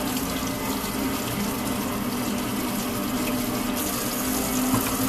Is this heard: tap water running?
yes